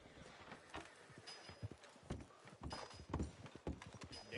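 Horse hooves clop in Red Dead Redemption 2, faint uneven thuds at a walking pace over a quiet, noisy game background.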